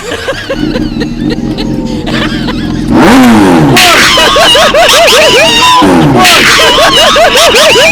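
A Kawasaki Ninja 250 motorcycle fitted with a Toyota Soluna car engine idles with a low rumble, then is revved hard in several rising and falling blips, loud and close, with voices audible in the background.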